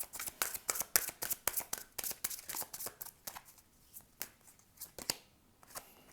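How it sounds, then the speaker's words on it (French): Tarot cards being shuffled by hand, a rapid run of crisp riffling flicks that loosens into slower, spaced card slaps and taps, close and fairly quiet with no talking. "Allez, on prend une dernière carte"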